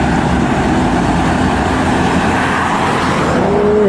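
A red LPG tanker truck passes on a busy road in Indonesia, a loud, close, continuous engine and tyre roar with steady traffic noise throughout and no voices.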